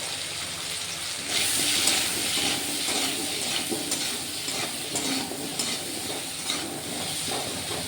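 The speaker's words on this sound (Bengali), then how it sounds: "আলুগুলোকে ভালো করে ভেজে নেব" Potato pieces frying in hot oil in a pan, giving a loud continuous sizzle with occasional stirring scrapes, close and unbroken throughout.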